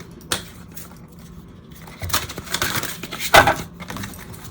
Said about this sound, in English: they're too long to do anything more than a side shuffle like this.